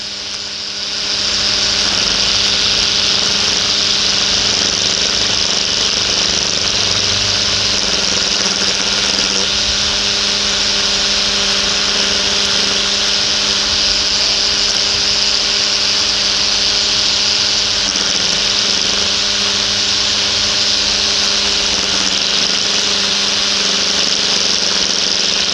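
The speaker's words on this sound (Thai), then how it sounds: "การทดสอบการใช้เครื่องตัดหญ้ายี่ห้อ iMac นะครับ แบบไฟฟ้าไร้สายนะครับ" Imax cordless battery-powered electric lawn mower cutting grass, a steady high-pitched motor whine running continuously at close range with slight fluctuations as the blades bite into the grass, with no talking.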